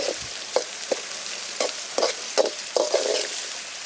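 Small shallots being stirred and sautéed in oil in a pan for Tamil fish curry, with a soft continuous sizzle broken by several distinct scraping clinks of a spoon against the pan.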